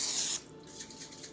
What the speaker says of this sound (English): We could just spray it with butter.